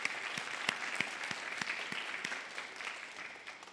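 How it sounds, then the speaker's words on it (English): Audience applause for reading competition teams at a school district event, a steady wash of many hands clapping at moderate distance, continuous throughout without speech. "If we could give them a round of applause,"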